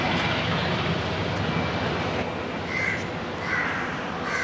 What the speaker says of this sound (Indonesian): Ada burung gagak.